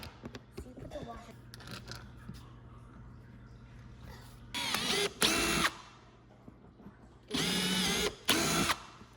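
A power drill drives screws into a dog-proof cat feeding and litter enclosure being built at home, in two pairs of short, loud whirring bursts, with quieter handling noises and some talk between them.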